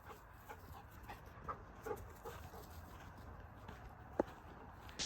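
Dog walking off leash in a private enclosed field, with faint panting and soft footsteps at a distance, quiet and uneven, plus an occasional small thump.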